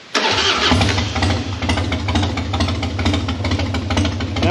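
A Harley Dyna motorcycle engine cranks and catches at once without choke or throttle, then settles into a loud, steady, lumpy idle close by.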